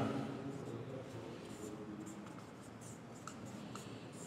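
Marker or chalk scratching across a board during a Class 12 physics lecture on light rays, a steady soft scraping texture with faint taps running continuously for about four seconds, no voice over it.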